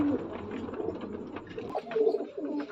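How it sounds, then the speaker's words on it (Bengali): Nakka fancy pigeons cooing in low, soft repeated calls, close by amid a dense background of other birds, no voices. "নাক্কা পায়রা দেখুন"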